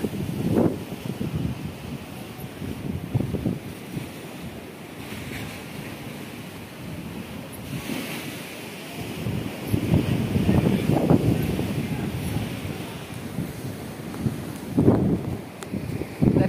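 Surf rolls onto the sand at Harihareshwar beach while a stiff sea wind blows, giving a continuous wash that swells and recedes several times, loud and close to the microphone, with no voices.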